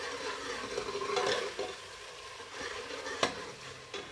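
Masala for dhaba-style fried mash dal is roasted and stirred in a pan, with a steady soft sizzle, scraping spoon strokes and one sharper clink near the end, heard close with no talking.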